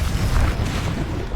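Bombarda blasting spell cast in Hogwarts Legacy, a dense low rumbling boom that fills the whole short moment at steady loudness with no pause or talk.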